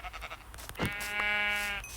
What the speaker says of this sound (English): Oh, pink sheep.